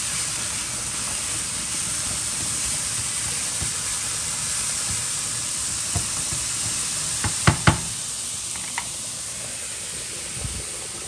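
Bacon and onion fry in a pan with a loud, constant sizzling hiss, broken by a few sharp knocks and clatters of utensils against the pan partway through.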